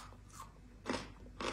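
Air-fried caramelized banana pieces are bitten and chewed, giving three soft, crisp crunches in quick succession, close and faint.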